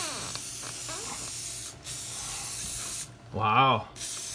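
A short, sharp hiss of a spray bottle bursts out near the end, preceded by low background noise and faint handling sounds.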